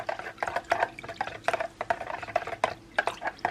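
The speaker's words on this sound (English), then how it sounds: "So we're just going to stir that in." Violet colour is stirred into melted wax, giving soft, quick liquid swishes and light scraping taps in an irregular rhythm, close and fairly quiet.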